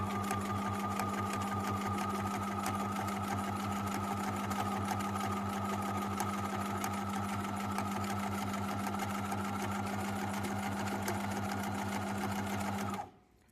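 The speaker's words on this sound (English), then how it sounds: "turn the handle towards you, and you start satin stitching really close" Sewing machine satin stitching close along the edge of appliqué fabric, a steady rapid mechanical whirr with a fast needle pulse running evenly at close range, then stopping abruptly at the end.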